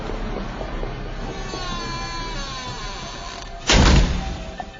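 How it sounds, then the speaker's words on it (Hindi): A room door slams shut with a single heavy, loud thud near the end, cutting sharply through a quiet, droning ambient bed. "कमरे का दरवाजा जोर की आवाज से अचानक बंद हुआ"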